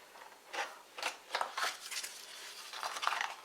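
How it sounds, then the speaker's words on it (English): Small scissors snipping into the corner of a fabric washbag, several quiet, crisp cuts in an uneven rhythm, close and faint with no talking. "Use my little scissors just to get right in that corner."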